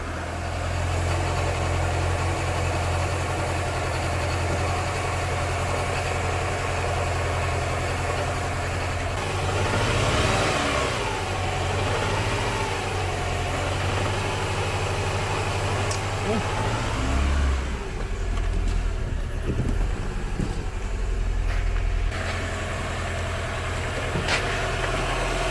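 Mini Cooper engine with a freshly rebuilt CVT transmission running in reverse, a steady mid-pitched idle that rises briefly then settles, close by with a person talking over it.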